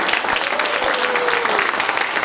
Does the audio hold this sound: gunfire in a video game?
no